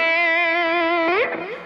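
A sustained electric guitar note rings with overdriven harmonics, then bends and trails off into a reverberant echo.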